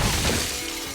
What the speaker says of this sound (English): Be careful because it's real glass. Smash him out through the window.